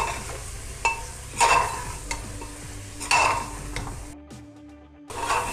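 Mutton pieces coated in spices sizzle steadily in a frying pan while a spoon stirs them, scraping and clacking against the metal in irregular strokes, close and moderately loud, with a brief quieter gap near the end.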